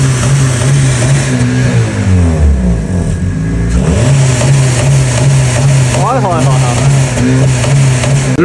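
A tuned Honda Civic sits idling while it warms up, its mid-pitched engine revving in steady surges and dips, with someone's voice briefly heard over the engine.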